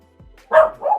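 A dog gives a couple of short barks close by, a brief rise then a louder double yelp, with faint background sound and no talking.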